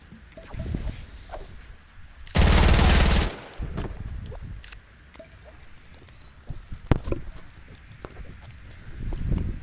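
Fortnite gunfire on a go-kart base map, a loud sustained burst of rapid automatic fire followed by scattered single shots and clatter, with brief talk nearby.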